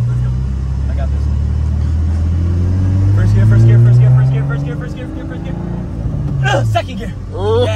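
Nissan S15 engine pulling hard through first and second gear, a loud rising drone that climbs, drops at each shift and climbs again, heard from inside the car with people talking over it.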